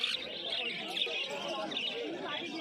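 Caged conure parrots at a pet market in Uluberia chirp in a dense, steady chatter of overlapping calls, with background voices mixed in.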